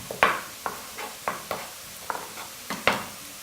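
Kale in oil in a pan, with a spoon or spatula clinking and scraping against the pan in about eight sharp, irregular strokes over a faint sizzle, with no talking.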